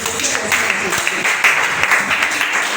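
Church congregation applauding and cheering for the Lord during a French-language sermon on meditating on the word of God, a dense, steady wash of clapping and crowd noise throughout.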